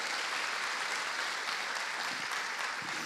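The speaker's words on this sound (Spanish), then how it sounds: "Damos un aplauso al Espíritu Santo de Dios hoy en Pentecostés." A Pentecostal church congregation claps together during a Pentecost service, a continuous, even roar of many hands that fills the room at a steady level throughout, with no voice standing out.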